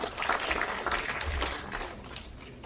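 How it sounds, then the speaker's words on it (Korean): An audience at an information session on a jokgu promotion-relegation league claps briefly and fairly close, in a dense patter that thins out toward the end. "박수 부탁드리겠습니다"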